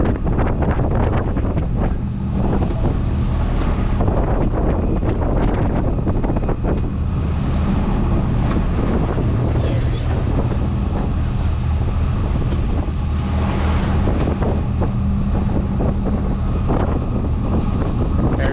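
Rough, confused seas at sail offshore, with strong wind buffeting the microphone over a constant roar of waves and water rushing past the hull, loud and unbroken throughout.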